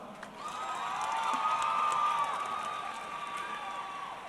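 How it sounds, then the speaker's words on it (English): Crowd applause and cheering for two women fighters after a Reality Fighting amateur MMA bout, a steady wash of clapping and whoops from a mid-distance audience, swelling slightly in the middle and holding for several seconds. "let's give both ladies a big round of applause"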